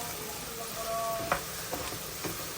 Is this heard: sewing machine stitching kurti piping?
no